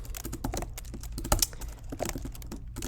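Quick, uneven clatter of keys on a computer keyboard, close and fairly soft, with one sharper keystroke standing out partway through and no talking.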